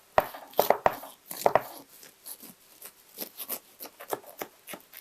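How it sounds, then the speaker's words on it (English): A knife cuts through a carrot cake in a series of sharp clicks and taps, a few louder strokes early and softer scattered cuts after, close and quiet. "let's cut the cake"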